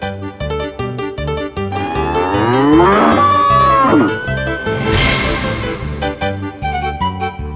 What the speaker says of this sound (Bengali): একটা ষাঁড় তোমার দিকেই তেড়ে আসছে